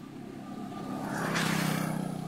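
A motorcycle engine climbs uphill as it passes, its drone building and swelling louder through the middle, with wind noise over it.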